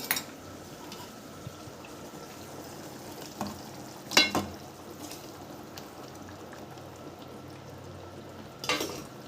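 Chicken frying in a pot with ginger, garlic, mint and coriander for a mint chicken curry gives a steady low sizzle throughout, broken by a few sharper clatters of stirring near the start, middle and end.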